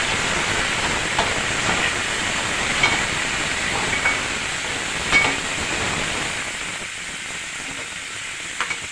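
Fresh coconut is fried in a pan for a kobbari pachadi, giving a steady, close sizzle and hiss with faint scattered pops that eases off toward the end, with no talk.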